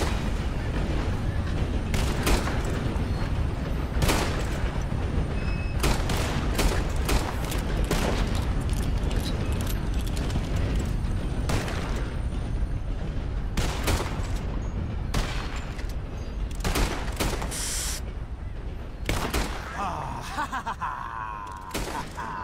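Gunfire in the Red Dead Redemption 2 video game, a long stretch of repeated sharp shots, some in quick clusters and others spaced apart, loud and close over a constant rumbling background.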